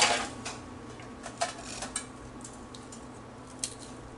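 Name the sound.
breaking crispy cake rusk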